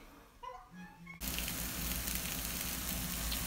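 Onion frying in a pan, a sudden loud burst of sizzling that continues as a steady crackling hiss, preceded by a short whistling tone.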